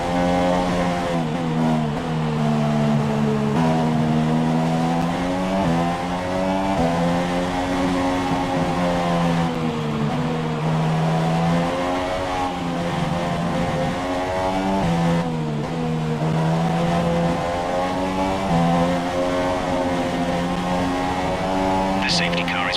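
Formula One race car engine in the F1 2017 video game at the Japanese Grand Prix, a loud continuous high-pitched whine rising and falling through gear changes as the car builds speed, with talk over it.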